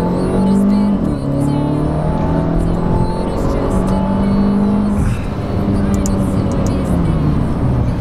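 A Brabus B25 S built on a Mercedes-Benz A250 A-Class pulls hard in sport mode on a country road, the engine note rising through gears with downshift blips, heard from inside the cabin.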